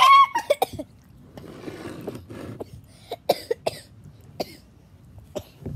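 A person coughs in a quick cluster of sharp bursts right after laughing while trying homemade slushees, followed by softer breathy sounds, giggles and scattered thumps nearby.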